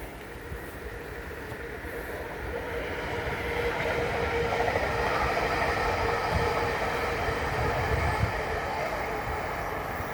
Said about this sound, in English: There is a train coming.